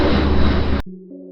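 An airplane taking off in Guadeloupe, a loud, close, broadband engine roar that cuts off abruptly, leaving a quieter low tonal hum.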